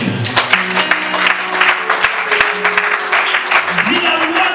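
A church congregation applauds and cheers during a French-language worship service, with dense, steady clapping and voices filling the space throughout, over a low sustained tone.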